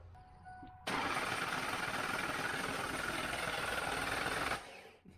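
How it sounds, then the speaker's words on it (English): A turbocharged Ford Foxbody Mustang engine cranks over in a steady, buzzing drone that starts abruptly, holds for a few seconds, then cuts off; no voices. "let's spin the engine over and get it primed"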